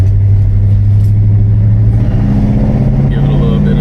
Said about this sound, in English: Give it a little bit of throttle. Up to about 45. She's pulling with zero issues.